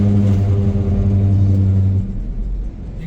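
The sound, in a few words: car driving over rumble strip markings on Ganga Expressway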